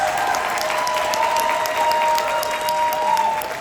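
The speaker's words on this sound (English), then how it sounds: "I think y'all should just give the company a round of applause" Convention hall crowd in Las Vegas applauding the company, a dense steady wash of clapping that stays loud and even throughout, with faint voices underneath.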